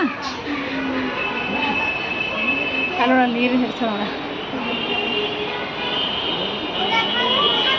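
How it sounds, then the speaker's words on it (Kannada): A Bangalore Namma Metro train passes close by, its steady rumble laced with squealing wheels throughout, while people talk over the noise. "ನಮ್ಮ ಮೆಟ್ರೋ ನೋಡ್ರಿ, ಬೆಂಗಳೂರು ಮೆಟ್ರೋ"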